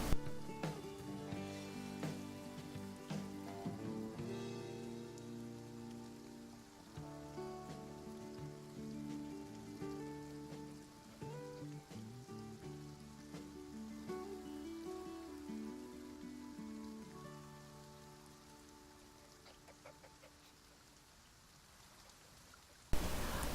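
Rain falls in a farming video game, a steady soft patter running under tonal in-game music, fairly quiet throughout with a brief louder burst at the very end.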